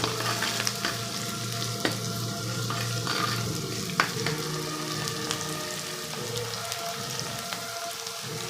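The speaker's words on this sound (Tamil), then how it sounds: "ஏன்னா வெங்காயம் நல்லா வதங்கும்." Onions frying with a pinch of salt for a brinjal and field bean tamarind kuzhambu, a constant close sizzle broken by occasional ladle taps against the pan.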